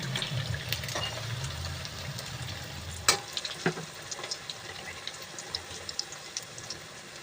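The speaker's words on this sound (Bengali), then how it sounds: "হাই ফ্লেমে ভাজতে হবে।" Food sizzles steadily while frying over a high flame, with a few sharp clinks and scrapes of stirring partway through and no talking.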